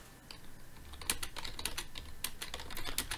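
Someone types chat comments on a computer keyboard in quick, faint clusters of key clicks, close by and without speech.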